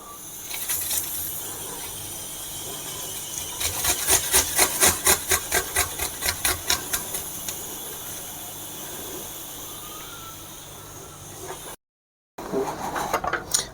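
Onions, about 250 grams, rubbed against a kitchen grater while preparing chole: steady scraping strokes, with a burst of quicker rhythmic rasps in the middle, then a short gap and more grating at the end.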